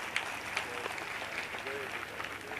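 Crowd applause at a large religious darbar gathering in Gujarat, a steady, moderately faint wash of clapping lasting the whole stretch with a few sharper claps and some voices mixed in.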